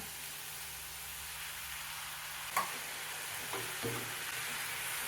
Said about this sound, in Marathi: हेही व्यवस्थित मिक्स करून घेऊया मिश्रण थोडंसं घट्ट होईपर्यंत परतून घेऊया